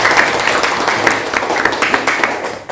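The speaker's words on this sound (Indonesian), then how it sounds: "Nah, tepuk tangan untuk" An audience applauds at a stage performance held during a teacher performance assessment. The clapping is a dense, steady wash of many hands that carries evenly through the clip.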